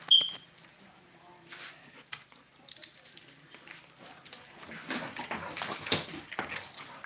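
A young female dog that behaves like a giant untrained puppy gives a brief high whine at the start, then shuffles and rustles around indoors near a bed amid soft jangling and clatter, close and fairly quiet.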